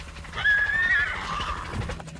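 A horse neighs during a roundup, one loud, close, wavering whinny that trails off, with faint hoof clops and shuffling beneath.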